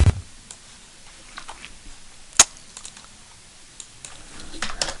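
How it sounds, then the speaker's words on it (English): Sparse, quiet keystrokes tap on a computer keyboard as numbers are entered in Maya 2018 software, with a few isolated clicks and one sharper key hit amid near-silence. "So I'm going to type in 1 and 1."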